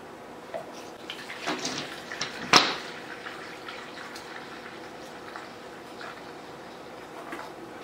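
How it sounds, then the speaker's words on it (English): Apple juice pours out of its original container, a soft, steady liquid trickle and glug heard close up, with a louder splash partway through and faint handling noises. "So I'm going to pour out 2 cups."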